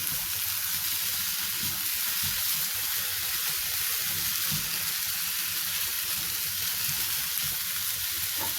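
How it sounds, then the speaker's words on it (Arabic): Washed, drained rice sautés in a hot pan with oil, giving a steady close crackling sizzle with faint stirring scrapes and no voices throughout. "خليه يتشوح كويس جدا عشان ما يبقاش معجن معانا لما يتحط في الفراخ"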